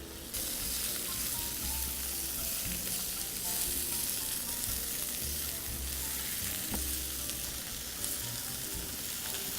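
Zucchini and other vegetables fry in a pan with a steady, close sizzle that runs without a break, mixed with faint stirring noises and no voices.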